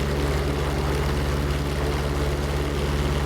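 A P-47 Thunderbolt's turbocharged propeller engine roars past in a combat flight game, a loud continuous low drone with a steady tonal hum and broadband rush throughout, with no talking.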